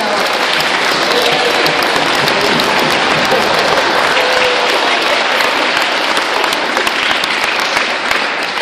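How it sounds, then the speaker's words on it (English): Loud, dense applause from a middle school audience, a continuous wash of many hands clapping at close range for the whole stretch, with crowd noise mixed in. "give you guys a round of applause for sharing"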